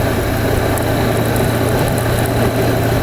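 Steady motorcycle engine drone while riding fast on a road at about 120 km/h, a loud continuous low rumble with wind noise and no break throughout.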